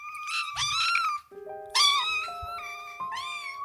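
A cat and little kittens meow in turn, several high, drawn-out cries close by, with a short pause and some softer tonal sounds between the calls.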